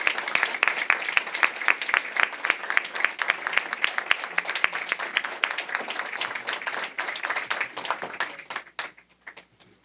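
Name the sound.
audience applause at a meeting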